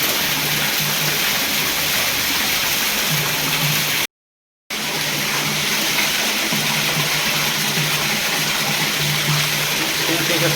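Water gushes from a newly drilled borewell at about 50 to 60 feet, a dense, constant roaring rush broken only by a brief cut to silence, with faint voices underneath.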